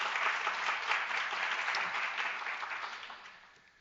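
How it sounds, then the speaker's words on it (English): Audience applause for Dean Randy Hughes at a university Three Minute Thesis welcome event, a steady wash of many hands clapping that slowly fades toward the end, heard alone without talk. "a big round of applause for Dean Randy Hughes"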